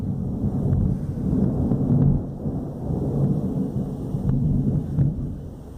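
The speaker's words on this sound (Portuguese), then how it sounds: "Nossa, tá trovejando aqui." Thunder during a storm rumbles low and continuous for several seconds, a deep rolling roar that swells and fades slightly with no voices over it.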